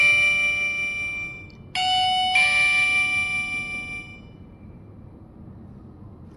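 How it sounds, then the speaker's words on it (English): Two-tone electronic chime from a Wi-Fi smart lock doorbell button, a bright ding followed by a sustained ringing tone that fades out over several seconds, clear and close in a quiet room. "You could press the doorbell on the lock."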